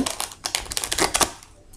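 Tarot or oracle cards being shuffled by hand during a general reading, a quick run of crisp, papery riffling taps that rise and fall in bursts before trailing off, close and fairly clear with no voices.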